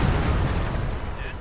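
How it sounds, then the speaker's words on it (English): Artillery shells land in Company of Heroes 2, heavy booming fire that rumbles loudly and fades slightly over a short moment, with faint voices mixed in. "Is that my artillery that wiped it out?"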